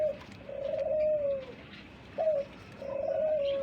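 Rajshahi Giribaz pigeons, a breeding pair kept at a farm, coo softly nearby in low drawn-out notes, two long coos separated by a short pause and a brief lift in between, with no talk.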